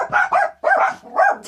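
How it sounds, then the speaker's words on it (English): Several dogs barking close and loud, four or so quick yappy barks in an uneven rhythm with brief gaps between them. "my dogs."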